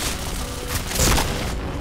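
A grenade bursts in the shooter game Point Blank, a loud booming blast about a second in, rising out of a dense, noisy game soundscape and fading quickly.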